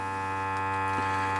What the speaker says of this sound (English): There we go, we're vacuuming now.